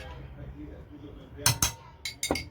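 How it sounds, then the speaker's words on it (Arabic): A spoon scrapes and clinks against a pot of stuffed vine leaves with trotters as tomato paste is stirred in, a few sharp metallic knocks over a soft, low background. "هديلهم برده تقليبه كده"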